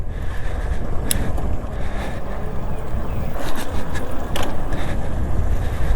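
A TST Defender electric bike is ridden and popped into wheelies, giving a steady rush of wind and drivetrain noise with a few sharp clicks and rattles throughout; no voices.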